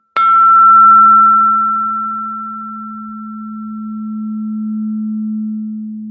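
A 741 hertz crystal tuning fork is struck once with a sharp attack, then rings as a loud, pure, sustained tone. A faint higher overtone dies away while the steady hum carries on alone.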